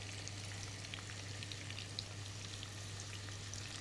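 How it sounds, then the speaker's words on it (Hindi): Chicken pieces fry in a pan of oil for dragon chicken, giving a soft, steady sizzle with fine crackling pops throughout, fairly quiet and without talking. "और ये फ्राई हो रहा है।"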